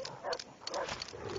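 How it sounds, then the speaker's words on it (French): Dingoes barking in the Far Cry 3 video game, a few short bursts of barks close by with faint talk underneath. "Ça doit être des dingos en fait."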